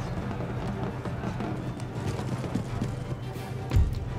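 Cavalry horses galloping in the Empire Total War strategy game, a dense continuous rumble of hoofbeats with battle noise and one sharp thud near the end.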